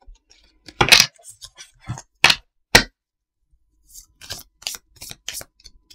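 Oracle cards being shuffled and cut by hand: a few sharp papery snaps and flicks, then a quieter run of soft riffling and shuffling, close and alone with no talk.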